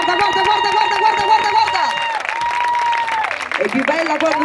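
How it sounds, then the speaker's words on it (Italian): Audience at a children's talent contest in Mondragone applauding steadily and loudly throughout, mixed with crowd noise and a voice over a loudspeaker. "Sentite ancora di più gli applausi"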